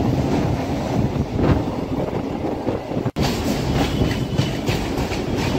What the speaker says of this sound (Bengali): আমাদের পাশে হচ্ছে ব্লু লাইন মেট্রো, তারও পাশে যাচ্ছে বেলঘরিয়া এক্সপ্রেস